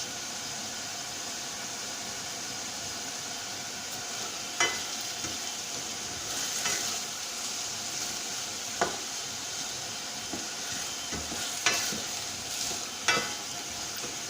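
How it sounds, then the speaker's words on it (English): Onions sautéing over high heat in a pan, a steady close sizzle with occasional sharp clicks and scrapes as they are stirred, no voices. "Keep stirring it as the onions soften."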